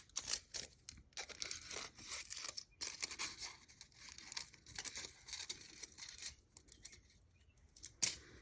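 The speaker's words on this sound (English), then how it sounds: "you're just going to cut out some circles out of your aluminum foil" Scissors snip repeatedly through aluminum foil while circles are cut out, giving a dense run of crisp, crinkly cutting and rustling sounds up close with brief pauses, ending in one sharper snip.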